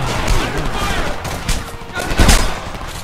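Gunfire in the first-person shooter game Homefront, a dense burst of overlapping shots and rapid automatic fire with louder close hits near the end, mixed with game noise and a voice.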